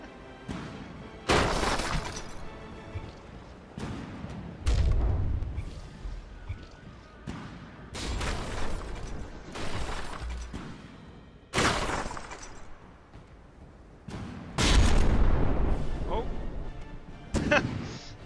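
Naval guns fire and shells strike frigates during a From The Depths tournament match between Manstein and Protostar: a string of heavy booms, thuds and shattering crashes, spaced a second or two apart, loud and punchy against a low rumble.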